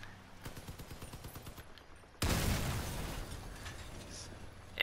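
Tank main gun firing in Crossout, preceded by a rapid rattle of smaller shots, then one loud, close blast that leaves a long rumbling, noisy tail.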